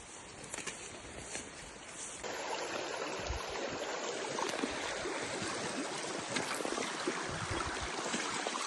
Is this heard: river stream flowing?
yes